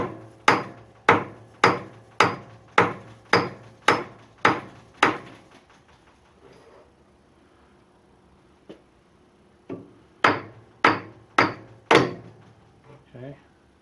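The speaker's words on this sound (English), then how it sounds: "I got this hammer out and started whacking on it" A hammer strikes the headstock of a 1925 Logan lathe in two bursts of sharp, evenly spaced metallic whacks, about nine blows, a pause with a lone knock, then five more.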